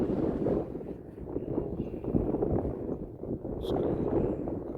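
Wind gusting at a drone flying site, a steady low rumble buffeting the microphone throughout, with no other clear sounds over it.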